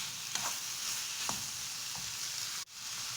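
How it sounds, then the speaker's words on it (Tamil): Green capsicum and tomato sautéing in a pan, a soft steady sizzle with a few spatula scrapes and a brief knock near the end, quiet and without speech. "இப்போ தக்காளி சேர்த்தாச்சு, அதையும் சேர்த்து நல்லா வதக்கி விட்டுக்கலாம்"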